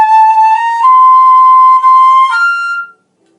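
A flute plays a short bar of clear sustained notes, stepping upward and then leaping to a held F before stopping, solo and close with no voices.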